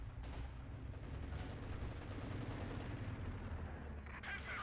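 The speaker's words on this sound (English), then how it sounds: "that was the Hull MG from Panther" Machine gun fire from a Panther tank's hull-mounted MG in Company of Heroes 2 rattles continuously amid dense battlefield noise, with rapid bursts layered under the game's combat din.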